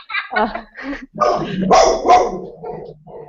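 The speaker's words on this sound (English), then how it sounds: "there's that puppy again" A puppy barks and yips in short bursts, close and loud, several barks in quick succession with some growly tones.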